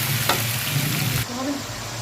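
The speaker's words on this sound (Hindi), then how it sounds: "अभी इसमें हम पानी जो है वो ऐड करने लगे हैं।" Chickpea masala frying in a pan on a home stove, a loud steady sizzle and crackle up close that cuts off sharply as water is poured in, leaving a quieter simmering hiss.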